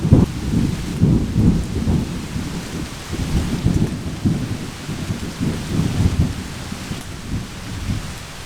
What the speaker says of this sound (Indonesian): Suara petir yang seakan menyambar bumi membuat suasana semakin mencekam